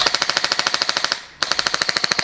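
A fully automatic toy gun fires with the trigger held down, a fast, even rattle of sharp pops that breaks off for a moment and then resumes at the same rapid rhythm, close and loud.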